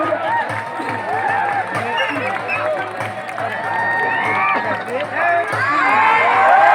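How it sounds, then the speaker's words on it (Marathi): A crowd at a wrestling bout featuring a 72-year-old wrestler claps, cheers and whistles loudly, with shouting voices mixed in and the noise swelling toward the end. "यांच्यासाठी एकदा जोरदार टाळ्या होऊ द्या"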